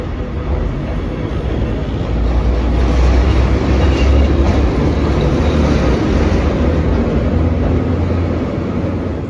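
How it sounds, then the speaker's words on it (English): Deep, continuous rumble of a 1923 CTA heritage train's motors rolling around Chicago's Loop elevated tracks, loud and close with faint clickety-clack, swelling midway and holding steady without speech. "Listen to the rumble of these 100-year-old motors."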